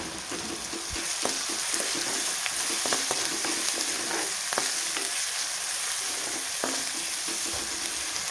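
Onions frying in a pan with salt and turmeric give a continuous sizzle, broken by sharp clicks and scrapes of a spoon stirring against the pan, with no talking.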